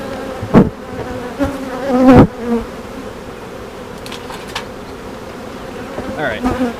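Honeybees buzz steadily around an opened hive during an early May inspection, a dense close drone with sharper swells as individual bees pass near, with occasional knocks.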